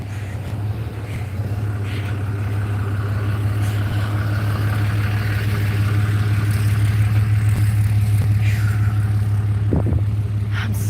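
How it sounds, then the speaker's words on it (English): Low steady engine rumble of a nearby truck idling and running in a jungle setting, a constant droning hum that holds throughout with no talk. "I hear a truck."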